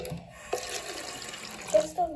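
Water runs from a tap during carpet cleaning at home, a soft steady flow with a few splashes, while a person speaks.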